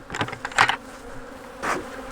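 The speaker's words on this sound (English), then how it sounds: "the bees will get in there and they'll harvest that and they'll take it back to the hive" Honey bees robbing open honey from a strong hive during a fall harvest, buzzing close by in a steady insect drone with a few louder passes as individual bees fly near.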